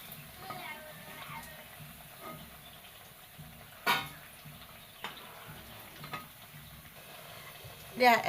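Rava snacks fry in hot oil with a faint, steady sizzle, broken by a few soft clicks and one louder knock of a utensil.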